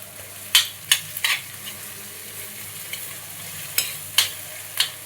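Onions with ginger-garlic paste fry in a pan for a potato, tomato and egg curry, a soft steady sizzle broken by a handful of sharp spoon scrapes and stirring clacks; no voices.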